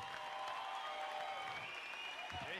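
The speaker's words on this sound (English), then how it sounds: "Give him a round of applause" A crowd at a Muay Thai fight event applauds a fighter, a quiet, continuous wash of clapping with some whistles or shouts mixed in, heard from a distance.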